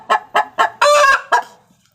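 Laying hens give four short, evenly spaced clucks, then a longer drawn-out squawk and one final cluck, loud and close with nothing else around.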